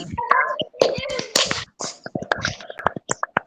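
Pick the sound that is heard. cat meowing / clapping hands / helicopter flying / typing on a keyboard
clapping hands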